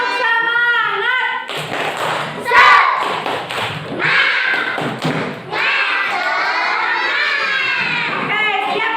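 A class of schoolchildren performing the rhythmic 'tepuk semangat' spirit clap: a teacher's voice leads in, then a burst of patterned claps, thumps and loud children's shouting fills the room.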